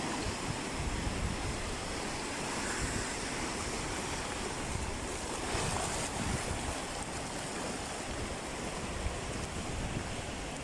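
Ocean waves break against big rocks at the shore, a loud, continuous rushing wash of surf with wind buffeting the microphone throughout.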